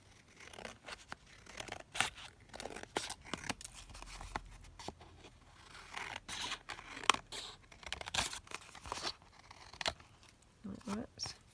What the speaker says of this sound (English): I think what I'm going to do is just start by trimming it down